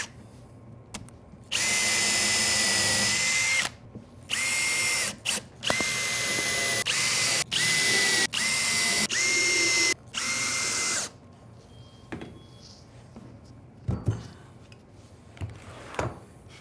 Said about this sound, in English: I'm just going to add a few screws just to kind of hold that in place.